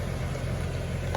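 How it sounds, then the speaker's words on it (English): A car engine runs through a loud carbon exhaust, a steady low rumbling drone close by with no other sounds. "This carbon exhaust is loud. It sounds damn good"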